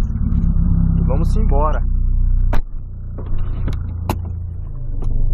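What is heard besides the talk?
Volkswagen Polo 2008 car engine starting and idling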